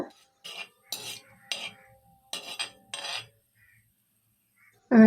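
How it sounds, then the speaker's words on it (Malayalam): Whole spices, cinnamon, cardamom, cloves, bay leaf and fennel, stirred in a hot pan, giving a series of short scraping rasps of spoon on metal in an uneven rhythm, close and clear, then a brief clatter. "ശേഷം ഒരു പത്ത് സെക്കൻഡ് തുടരെ ഇളക്കി ഇവ ചെറുതായിട്ടൊന്ന് മൂപ്പിക്കുക"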